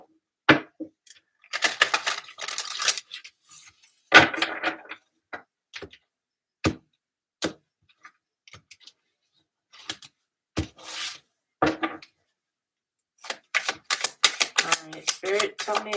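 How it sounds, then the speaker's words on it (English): Tarot cards being shuffled by hand during a spiritual reading, in bursts of quick papery riffles and rasping slides broken by crisp single taps and pauses, close and moderately loud with no talking. "One more shuffle."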